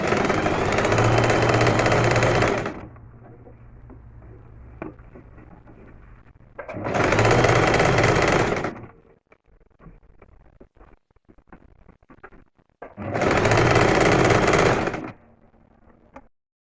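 A sewing machine stitches heavy fabric for a women's prayer outfit, running in three loud, steady bursts of about two seconds each, separated by quieter pauses with faint handling clicks.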